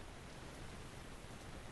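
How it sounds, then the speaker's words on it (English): Steady rain in the video game Minecraft, a dense even hiss of falling drops that fills the whole short stretch without pause, with no talking over it. "Oh my god, it's raining"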